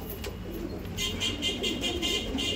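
Pure Saharanpuri pigeons coo in a loft, a series of low repeated murmuring calls at moderate distance over a rushing background, with no voices.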